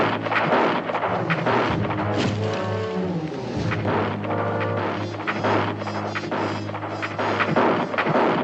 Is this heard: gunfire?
yes